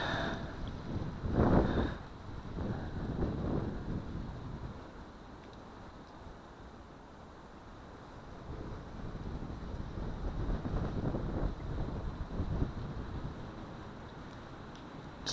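Wind buffets an outdoor microphone, rumbling loudly in uneven gusts that swell and ease over about fifteen seconds with no voices.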